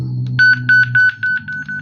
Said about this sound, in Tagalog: Tingnan nyo guys yung volume pag dito sa beep.